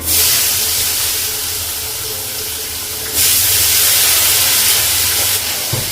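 Panch phoron spices and onion hit hot oil for a fish curry, a loud, broad hissing sizzle that eases slightly before surging again midway, close and continuous.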